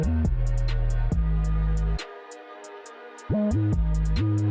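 A drill beat built in FL Studio: punchy gliding 808 bass notes and rapid hi-hat rolls over a sustained melodic layer, loud and rhythmic, with a brief drop-out midway before the full beat slams back in.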